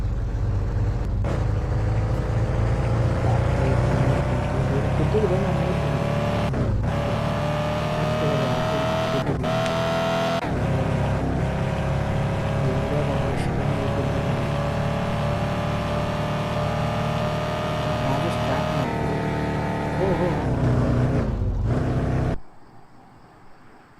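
Ford Mustang engine in the Car Dealership Simulator game, a loud steady drone with rising and falling revs that runs continuously, broken by brief dips, before cutting off near the end.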